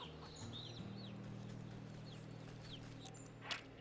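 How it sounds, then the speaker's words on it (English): Chickens cluck in the video game Wytchwood, with a plump hen and a rooster heard as several short calls over a steady low musical drone, moderately quiet and continuous. "Oh, look at the chickens! A plump and happy hen. And a rooster."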